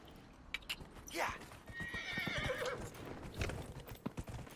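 A horse in the video game Dragon Age: Inquisition clip-clops over rocky ground with a loud whinny, hooves thudding in an uneven rhythm while someone talks.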